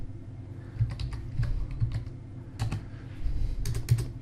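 Typing on a computer keyboard while editing a document, a sparse run of soft, close key clicks with irregular pauses, heard alone with no talk.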